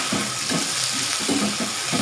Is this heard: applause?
no